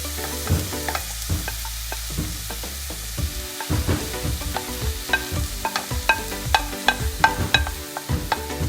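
Chopped bitter gourd frying in a pan with mustard seeds and onion, steady sizzling under a series of sharp scraping and tapping stirs from a spoon, close and fairly loud, no talk.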